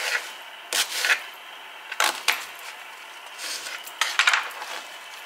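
A small onion being halved with a knife on a kitchen board, giving several sharp, close cutting knocks and scrapes in irregular bursts, with no talking.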